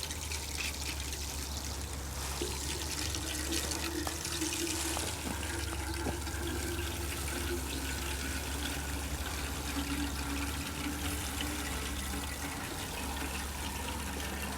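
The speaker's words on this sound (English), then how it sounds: "The next thing I want to do is water in my seedlings" Water flows steadily from a can or hose onto broccoli seedlings being watered with liquid fish fertilizer, a constant close trickling and splashing that carries on without a break, with no voices.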